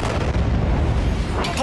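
A huge blast at a chemical production factory in Tuzla, Istanbul, heard as a dense, rumbling roar that fills the whole short span, loud and continuous with heavy low end.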